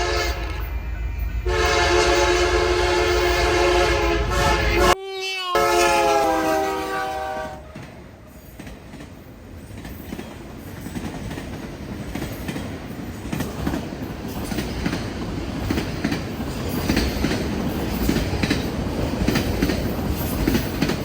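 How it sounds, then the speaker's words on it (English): A Kansas City Southern (KCS) locomotive sounds a K3-type horn, a loud chord that blows in long bursts, then rolls past up close with steady rumbling and rail noise that fades slightly. "KCS 4083 has a weird K3 type horn, which I'm really a fan of"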